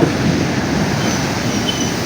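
Strong waves in stormy weather, a loud continuous roar of surf with no pauses and no voices, close by.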